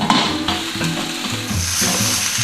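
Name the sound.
steak searing in a pan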